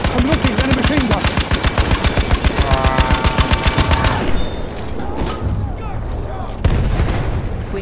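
A machine gun in Battlefield 1 multiplayer fires in a fast, steady, loud rhythm for about four seconds, then stops. Battle noise, a heavy thump and voices follow.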